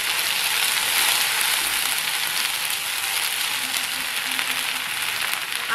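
Chopped onion sizzles steadily in oil in a pan as ginger paste is stirred in, with a continuous, fairly loud frying hiss close by and no talking.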